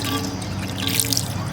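Ghee pouring into a heavy pot for mutton biryani, a soft steady trickle with faint dripping, close and quiet, no talking.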